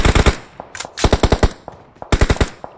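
Battle royale game gunfire in rapid bursts: three clusters of sharp automatic shots, loud and close, separated by brief pauses and a couple of isolated single cracks, with no voices.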